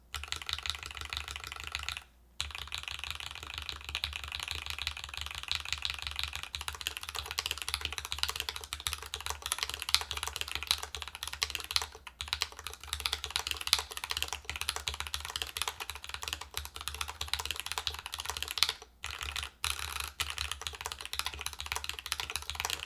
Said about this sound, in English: So these are FFFFF switches, 4 Fs. Kikobo keycaps.